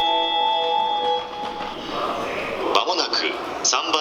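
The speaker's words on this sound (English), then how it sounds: "there's an entire series of sounds and announcements that let you know things like when" A train approach melody on a Tokyo station platform: a clear, steady electronic chime tune rings for about a second and a half, then fades into busy station noise with voices.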